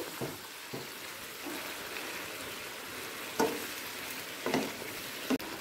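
Chicken being stirred with onions on a low flame for hariyali chicken masala, a moderate steady sizzle with a few sharp spoon scrapes and knocks against the pan.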